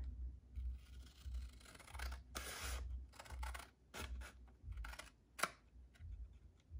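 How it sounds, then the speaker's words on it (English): Close, quiet snips and rustles of scissors cutting through book paper, several uneven cuts with brief pauses between them. "I'm just gonna use scissors here."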